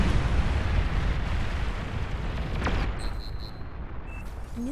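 Heavy Ragnarok cannon fire in the strategy game Beyond All Reason, a loud sustained rumbling blast of explosions with a sharp crack near the middle and faint tonal beeps toward the end.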